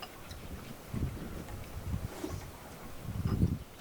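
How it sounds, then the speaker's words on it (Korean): Wind blowing outdoors in a rural countryside setting, a steady low rushing broken by stronger gusts around the middle and near the end, with no voices heard. "바람 소리 저기 어떻게 들리니"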